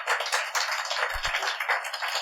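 A church congregation applauds during a sermon, dense sustained clapping from many hands filling the room, steady and fairly loud throughout with no talking.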